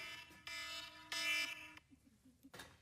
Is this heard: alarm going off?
yes